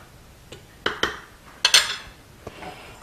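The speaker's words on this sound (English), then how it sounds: "I'm going to add a little bit of salt and pepper, and I'm just going to mix that in with the flour." Utensil scrapes and clinks against a plate while salt and pepper are mixed into flour, a handful of sharp close taps scattered irregularly over three seconds with quiet between them.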